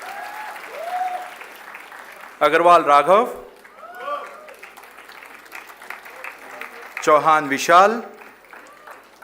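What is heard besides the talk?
students applauding at a convocation ceremony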